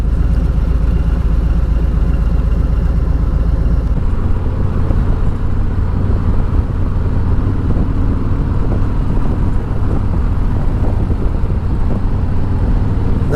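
A 2020 Harley-Davidson Electra Glide with the Milwaukee-Eight engine drones steadily while riding, a smooth low rumble mixed with road and wind noise, continuous and moderately loud with no talking.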